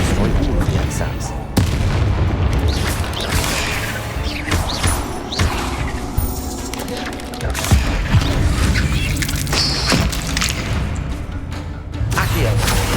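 Repeated Confringo fire-spell explosions in the video game Hogwarts Legacy, booming blasts and crashes stacked densely over continuous combat noise, with a voice talking over them.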